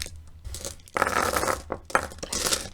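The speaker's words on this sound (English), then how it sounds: "I'm going to give them a quick shuffle here for you guys." Rune stones being shuffled by hand, a few bursts of clattering, clicking stone-on-stone rattles close up with short pauses between them, no voices.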